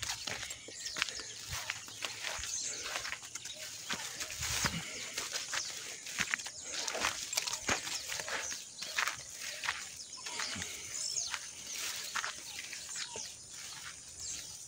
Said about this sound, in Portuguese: Olha os pássaros.